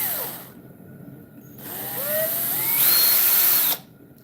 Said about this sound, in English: Actually, I'm going to do a smaller drill hole because it's going to be a smaller screw